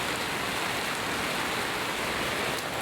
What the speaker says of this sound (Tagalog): Nagkaulan.